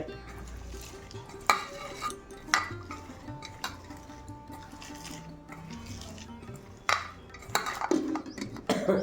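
Chopped onions and green chilies are squeezed and mixed together by hand in a bowl, giving soft, wet squelching and rubbing with a few sharper clinks of a dish, fairly quiet and close.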